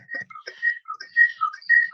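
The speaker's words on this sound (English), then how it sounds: "Okay, I'm whistling now." Someone whistles a quick, warbling tune up close, short notes rising and falling in a lively run.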